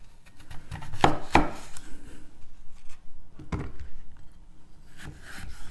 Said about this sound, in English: slice it down the middle